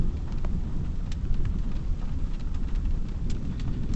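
Heavy storm rain pouring steadily outdoors near a Wal-Mart during a thunderstorm, a dense loud hiss of drops with a low rumbling undertone and scattered sharper splashes throughout, no talking.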